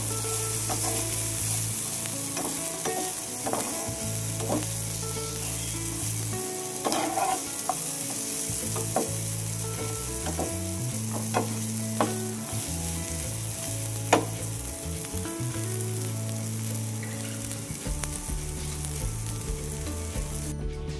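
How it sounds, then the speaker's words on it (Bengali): Bitter gourd frying in a pan makes a continuous close sizzle with occasional clicks and scrapes of stirring, holding steady for about twenty seconds while soft background music plays underneath. "তো উচ্ছে ভাজা আমার হয়ে গেছে"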